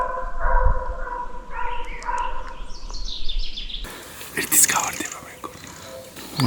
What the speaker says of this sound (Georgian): ეხა უნდა გაჩვდეს ხმა ძაღლებს.